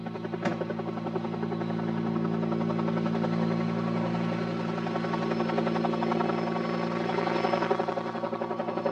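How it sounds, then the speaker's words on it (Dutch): A military helicopter of a Dutch army unit in Lebanon, used to carry people, mail and wounded, flies with a steady droning rotor and engine hum, loud and continuous throughout with no talk. "De helikopter wordt in Libanon gebruikt voor het vervoer van personen, de post en eventuele gewonden."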